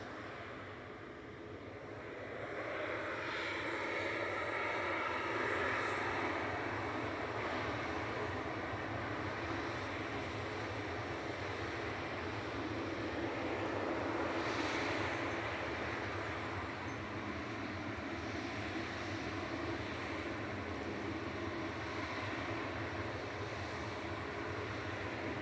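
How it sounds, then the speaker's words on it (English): An Embraer E195-E2 jet departs from Manchester Airport, its engine roar building from a distance into a sustained broad howl that swells and slowly fades over about twenty-five seconds, with no talking. "E195E2. Let's hear the howl."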